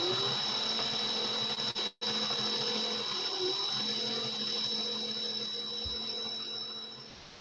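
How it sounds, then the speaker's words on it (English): An electric drill runs slowly in reverse while winding a coil, giving a steady whirring hum with a high whine throughout, briefly cut off by a short gap near the start, no talking. "Make sure the drill's in reverse. I did start the drill off slow."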